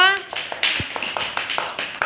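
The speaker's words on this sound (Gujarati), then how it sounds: "થઈ ગયું ચાલો તાળી પાડો" Children clapping their hands, a quick uneven run of claps at fairly close range, beginning just after a brief voice.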